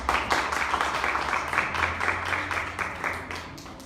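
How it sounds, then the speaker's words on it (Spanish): A church congregation applauds the Lord during a sermon, rhythmic group clapping at moderate distance with a faint low hum underneath, softening slightly toward the end. "Dale un aplauso al Señor."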